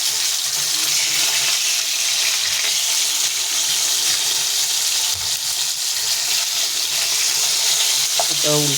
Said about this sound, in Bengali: মাছগুলো একটু নেড়ে নেড়ে দিতে হবে ভালো করে।